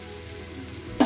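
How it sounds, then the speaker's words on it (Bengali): Bora fritters fry in hot oil with a low, steady sizzle, ending in a sudden louder hiss or splash. "বড়া করে নিই, ও বড়াগুলো ভাজছি"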